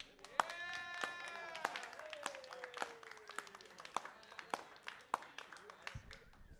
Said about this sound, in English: Everyone, clap right now.